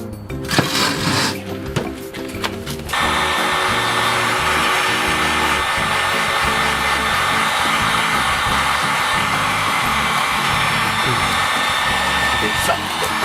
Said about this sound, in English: to repair this bumper that's been kind of melted by the muffler, we need a heat gun